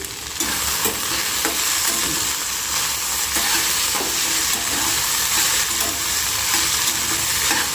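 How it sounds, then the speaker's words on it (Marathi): Okra cooks in a pan seasoned with cumin, mustard seeds, green chilli and whole garlic, giving a loud, dense, continuous sizzle with occasional stirring taps, no speech. "भेंडी थोडीशी वाफवली मी"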